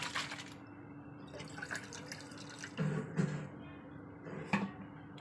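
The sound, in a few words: rinsing a pot with a little water before boiling milk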